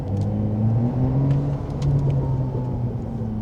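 A Porsche 911 Turbo S engine heard from inside the car while driving, a steady low hum and rumble with mild swells in pitch, continuous and fairly loud.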